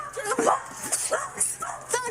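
A dog barking in short yips mixed with whimpers inside a house during a police entry, close and excited, with a person speaking over the noise.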